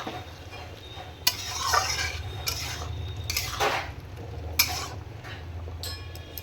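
Green chili being mixed into a pumpkin and prawn curry, with repeated loud scraping strokes of a spoon against the pot and light clinks over a low background hum.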